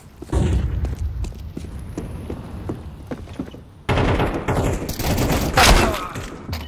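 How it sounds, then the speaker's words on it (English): Flashbang and gunfire in a video game: a volley of sharp shots and thuds, then a loud bang partway through, followed by a dense, noisy burst of firing. "Throwing a flashbang."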